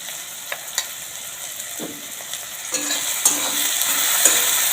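Vegetables with green chilli and salt frying for a bread pocket filling, a gentle steady sizzle broken by soft spatula scrapes and taps against the pan, growing slightly louder toward the end.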